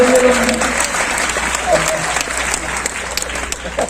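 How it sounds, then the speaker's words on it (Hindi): Audience applause at a Hindi stand-up comedy and satire performance, a steady dense clapping wash that runs the whole time at a fairly loud level, with a bit of voice mixed in. "तालियां बजती है यहाँ पे हर कभी"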